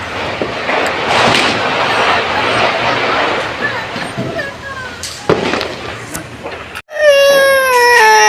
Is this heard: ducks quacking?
no